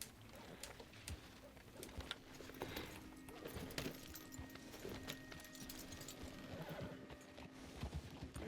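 Several horses ridden together in Red Dead Redemption 2, hooves clip-clopping steadily with an occasional whinny and faint birdsong in the background, no one talking.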